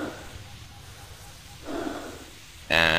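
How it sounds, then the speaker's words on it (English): Heavy in-game breathing from a Half-Life 2 mod, a low, rasping run of breaths with a swelling gasp near the middle and a sharper, louder burst at the end, heard alone. "And heavy breathing. And more heavy breathing."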